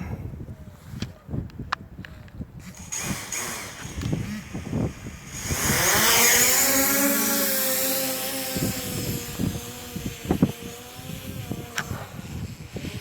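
A DJI Mavic Pro drone spins up and lifts off, its rising propeller whine swelling loud around the middle and holding steady, with brief handling noises and a voice before and after.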